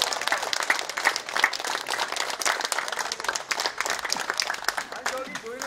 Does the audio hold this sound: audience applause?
yes